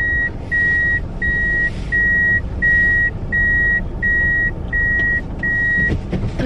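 Loud reversing beeps repeat in an even rhythm, about nine short tones, over a low vehicle engine rumble.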